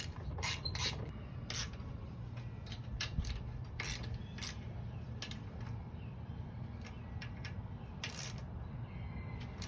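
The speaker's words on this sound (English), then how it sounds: "you'll tighten them up with a ratchet." A ratchet tightening the starter bolts on a Kohler Command V-twin engine from a Last Race riding mower gives a series of sharp, irregular clicks over a steady low hum of background noise.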